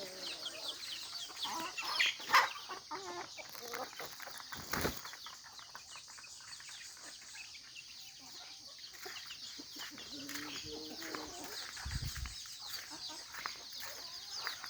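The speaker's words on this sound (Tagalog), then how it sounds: "papakainin ko yung aking mga day old chicks at saka mga week old chicks" Free-range chicks, day-old and week-old, peeping faintly amid quiet rustling and a few brief flapping and scratching bursts, with a short low thump near the end.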